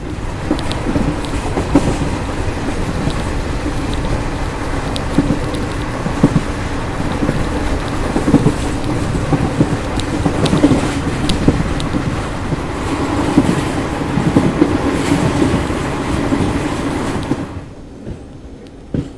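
Steady rumbling and rattling of a moving train in India, between Phalodi and Ramdevra, continuous for most of the clip before cutting off near the end, with no talk.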